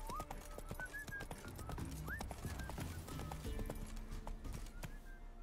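Horse hooves clip-clop steadily in The Witcher 3: Wild Hunt, a continuous rhythmic clatter with occasional whistling-like tones and ambient game sound throughout.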